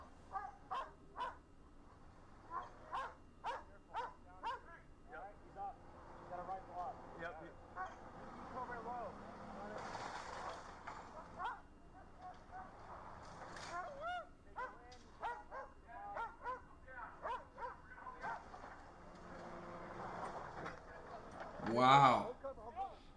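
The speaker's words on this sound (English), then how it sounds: "Tell that dog, shut up." A dog barks repeatedly in short bursts during a police raid, faint and mixed under people talking, with louder clustered barks near the end.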